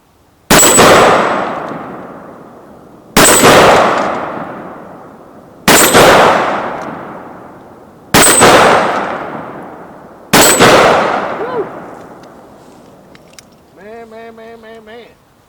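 Five loud, sharp gunshots from a Smith & Wesson Combat 66 .44 Magnum revolver, fired outdoors at an even pace about two and a half seconds apart, each with a long ringing decay, followed by a brief harmonic tone at the end.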